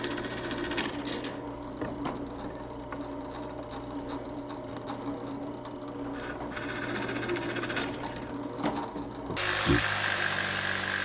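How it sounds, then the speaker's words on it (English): A jigsaw buzzes steadily with rapid mechanical chattering as it cuts out holes in wood for a game table, ending in a brief louder burst of noise. "And just using a jigsaw to finish up that cut."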